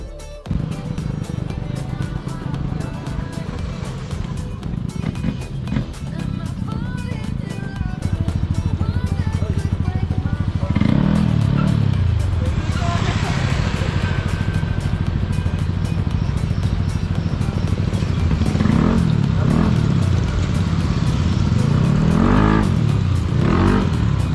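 A remapped Yamaha NMAX scooter engine idles roughly, then revs repeatedly in sharp bursts, loud and close, the throttle rising and falling several times.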